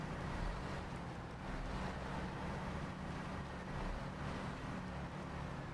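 Heavy ZX612H truck engine from the SnowRunner video game, a steady loud rumbling drone that holds without pause throughout, with no talk over it.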